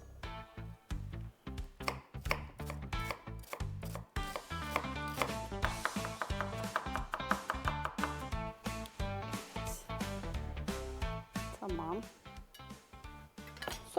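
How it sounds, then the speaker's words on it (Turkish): A knife finely dices an onion rapidly on a cutting board, fast repeated chops in steady runs with short breaks, close and loud over a tonal background. "bir adet soğanımı çok ince küp küp doğruyorum"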